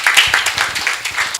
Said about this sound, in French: Nous allons le recevoir ici avec des applaudissements bien mérités